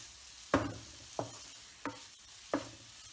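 Raw banana curry is mashed in a frying pan, with four soft, evenly spaced thuds of the masher pressing into the thick mixture over a faint background hiss.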